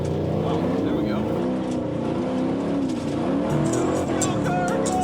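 Car engine revs and labours steadily while driving on rough off-road terrain, with a continuous loud drone throughout and people talking excitedly over it.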